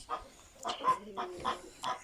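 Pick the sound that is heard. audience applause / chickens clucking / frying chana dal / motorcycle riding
chickens clucking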